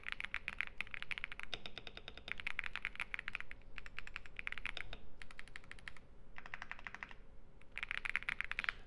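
Someone types on a heavy computer keyboard in rapid bursts of close, crisp keystrokes, with short pauses between the runs.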